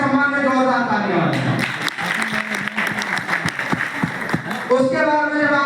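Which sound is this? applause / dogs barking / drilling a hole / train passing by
applause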